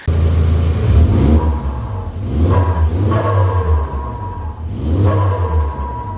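A car engine revving repeatedly through metal intake pipes, three loud rising surges with a whooshing boost sound, each easing off between pulls, close and prominent.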